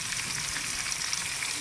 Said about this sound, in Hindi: चिकन हमारा हल्का हल्का फ्राई हो चुका है।